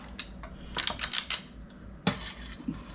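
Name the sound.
teaspoon crumbling crust mixture onto jam in cookies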